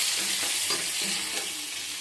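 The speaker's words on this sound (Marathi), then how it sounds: "शिमला मिरची आपली व्यवस्थित भाजली की त्यात टमाटो टाका" Capsicum and onion fry in a pan for poha pasta, a dense, close sizzle with faint stirring scrapes and no talking.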